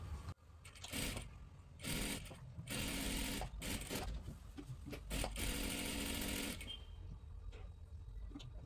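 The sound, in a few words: sewing machine double-stitching a salwar seam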